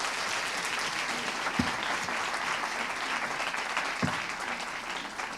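Audience applause after a lecture at an international conference, a dense, steady clapping from a large crowd that fills the whole stretch with no voices over it.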